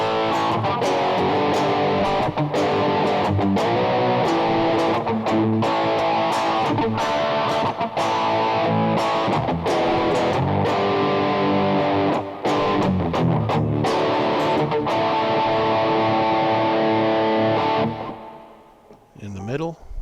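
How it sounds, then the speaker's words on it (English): Heavily distorted electric guitar on the bridge pickup of a Snow Stallion prototype plays chords and riffs with a bright, biting tone, loud and sustained, then cuts off and rings out near the end. "distortion in the bridge position."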